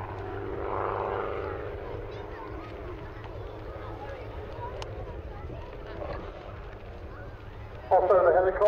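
Otto the helicopter, flying at the Weston Air Festival air display, gives a steady rotor and engine drone that swells sharply near the end, with a voice talking over it.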